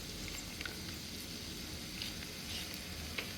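Steady close sizzling of corn rice frying in a pan, a continuous bright crackle with small pops and occasional stirring scrapes, no voices.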